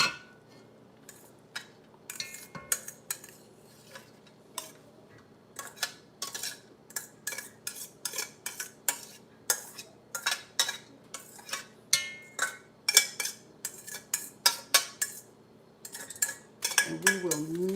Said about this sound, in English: We will use this pot to mix.